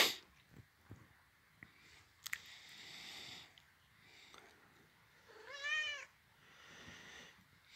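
A pet cat gives one clear, rising-and-falling meow midway through, with faint household knocks and shuffling around it and no talking.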